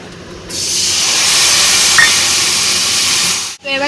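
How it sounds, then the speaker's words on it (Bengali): Cumin and chili paste mixed with water hits a hot wok, bursting into a loud, steady steam-like sizzle that holds for about three seconds, then cuts off abruptly. "কাঁচা জিরে আর মরিচ বাটা আছে ওটা একটু জল মিশিয়ে কড়ার মধ্যে দিয়ে দেবো।"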